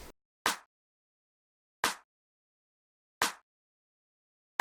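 A clap-and-snare drum sample strikes four times in a simple, evenly spaced pattern about every 1.4 seconds. Each hit is sharp, crisp and dry, with silence between hits and no other instruments.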